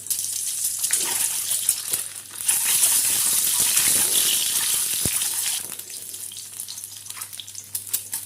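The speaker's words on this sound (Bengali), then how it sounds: "এবার এখানে ডিমগুলো একটু ভেজে নেব।" Eggs fry in hot mustard oil in a kadai with a loud, bright, crackling sizzle that swells in the middle and then settles to a softer spatter.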